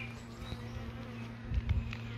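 Honey bees hum softly around an open hive frame with eggs and larvae, a faint steady buzz with a few louder passes of individual bees close by.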